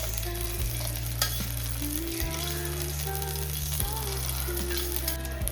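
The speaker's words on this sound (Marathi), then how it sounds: "जे माझ्याकडं कढईमध्ये अवेलेबल आहे त्यातच जिरं टाकलं, त्यातच थोडंसं हिंग टाकलं आणि जो आपण मसाला केला आहे, वाटण केलं आहे जे कांदा टोमॅटोचं, ते मी ह्यामध्ये छान परतून घेतलं" Onion-tomato masala paste with cumin and hing sautéing in a kadhai gives a steady close sizzle, with low mechanical tones running beneath it and no talk.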